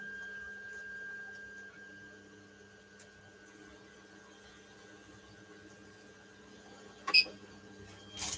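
A well-worn 3D printer, four years old with thousands of hours of use, runs with a steady mechanical whir and faint tonal hum, then gives a short sharp rattle near the end.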